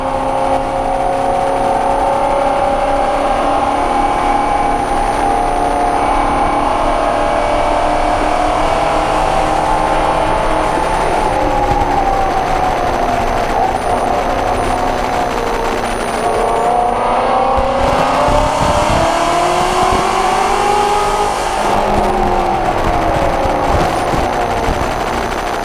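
A modified 2017 Ford GT350 lapping a wet, rain-soaked race track, its engine droning loud and steady throughout, pitch sweeping up and down through gear changes and corners with no break.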